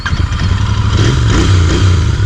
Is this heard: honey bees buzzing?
no